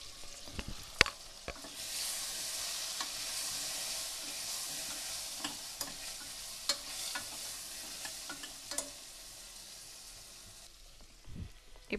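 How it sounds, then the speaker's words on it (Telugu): Coriander powder and chili powder being stirred into a hot pan, a steady frying sizzle with occasional spoon scrapes and taps running throughout at close range. "కొద్దిగా ధనియాల పొడి కొద్దిగా మిరపపొడి వేసుకొని బాగా కలుపుకోవాలి"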